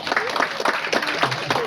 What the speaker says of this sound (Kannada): ಚಪ್ಪಾಳೆ ತಟ್ಟಿದವರಿಗೆ ಧನ್ಯವಾದಗಳು.